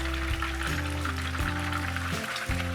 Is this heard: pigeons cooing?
no